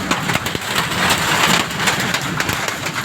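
A hailstorm hammers down in a continuous, loud clatter of hard pellets striking surfaces nearby, with occasional sharper knocks standing out from the wash.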